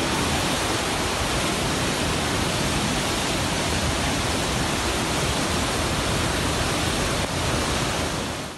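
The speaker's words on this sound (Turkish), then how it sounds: "Taşan derenin suları önüne ne kattıysa götürdü." Floodwater from the overflowing Şairler Deresi creek rushes in a loud, unbroken roar, a dense steady torrent with no voices over it.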